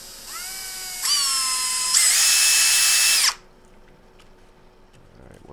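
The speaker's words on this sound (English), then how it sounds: "we're going to drill the hole straight" A power drill with a 7/16 bit bores straight through a rubber jack-pad puck for a Tesla Model 3, a loud whine stepping up in pitch twice before stopping abruptly, followed by faint handling noise.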